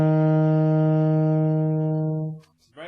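Saxophone holding a single low C, a steady, buzzy tone sustained for about two seconds before it stops, followed by a brief breathy rustle.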